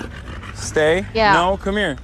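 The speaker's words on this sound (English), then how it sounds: "That's a dog that is scared." A frightened dog pants and whimpers softly, with high whining cries between short breathy pants, close by and under a man's commands.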